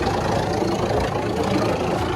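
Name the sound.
wood chipper machine engine running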